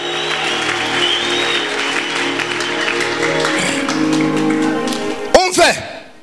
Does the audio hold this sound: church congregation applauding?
yes